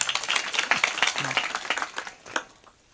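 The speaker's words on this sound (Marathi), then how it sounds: "एकदा विद्यार्थ्याकरता टाळ्या वाजवा" Audience clapping for a student at a Marathi kirtan, a brief scattered patter of hands that thins out and fades after a couple of seconds.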